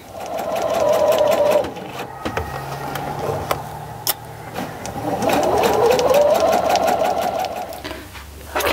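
Sewing machine stitching a seam on a messenger bag, a loud steady whirring run that pauses briefly midway, then resumes with a rising and falling motor pitch before stopping.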